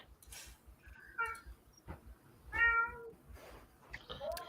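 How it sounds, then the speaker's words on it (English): A cat meows several times nearby, drawn-out plaintive cries spaced a second or so apart, over a faint low rumble. "So there's a cat on this boat."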